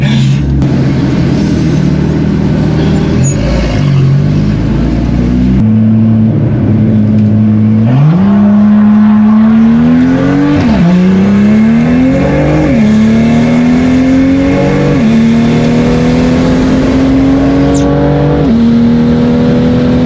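A 600 hp BMW M2 laps the Nürburgring, heard from inside the car. The engine revs loudly and climbs through the gears in repeated rising sweeps, with sharp drops at each upshift.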